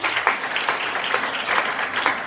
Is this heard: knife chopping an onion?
no